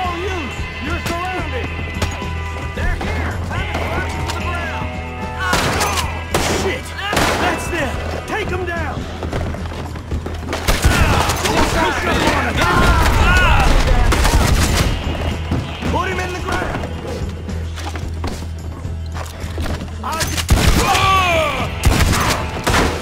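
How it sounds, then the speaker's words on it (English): Repeated gunfire in a Red Dead Online western shootout, bursts of sharp shots and heavier booms scattered across the scene, some close and loud, others farther off, with shouting voices over the fight. "Why are they shooting me?"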